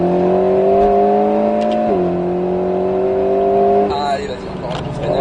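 An Alpine A110 S on the Grand Sambuc race circuit pulls hard, its engine drone rising steadily through a gear, dipping briefly at a shift, then climbing again, heard from inside the car beneath a voice.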